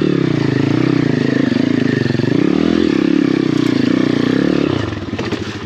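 Cheap Apollo RFZ pit bike ridden on a wooded enduro trail, its small engine buzzing loudly and steadily with pitch rising and falling, then easing off near the end amid clattering and scraping.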